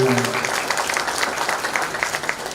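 Audience applause at a student Yakshagana talamaddale performance, a dense, steady patter of many hands clapping throughout, with a brief low voice or tone at the very start.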